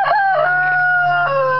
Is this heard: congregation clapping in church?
no